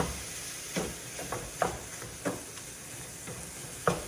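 Ground meat sizzles steadily in a stainless pan while a teak spatula mashes and breaks it up, with several distinct scraping strokes and taps punctuating the continuous frying hiss.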